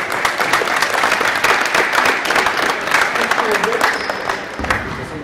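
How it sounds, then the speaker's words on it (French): An audience at a French talk applauds steadily, a dense, fairly loud wash of clapping that holds for several seconds, with a voice briefly audible beneath it. "Je vous demande de l'applaudir"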